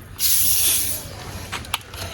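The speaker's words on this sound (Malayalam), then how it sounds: "സോഡ പൊട്ടിക്കാൻ പോണാണ്." A soda bottle is cracked open for a spicy moru soda, releasing a short, close burst of fizzing hiss that tapers off, followed by faint clinks and small bubbling sounds.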